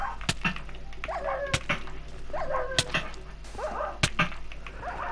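A tamed dog in Minecraft PlayStation 4 Edition gives a series of short, high yelping barks and whines, interspersed with sharp clicking game hits, at moderate loudness.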